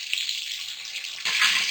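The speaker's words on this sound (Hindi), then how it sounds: "साथ ही मैं थोड़ा सा पानी डाल दूंगी ताकि मिर्चें जले ना" Water splashes into a pan of frying cumin, coriander, turmeric, salt, korma masala, ginger and chillies, a soft sizzle building into a louder, steady hiss after about a second.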